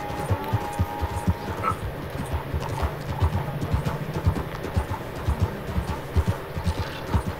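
Horse hooves clip-clopping in Red Dead Redemption 2, a steady rapid walking rhythm of close, distinct thuds throughout, with a faint background tone.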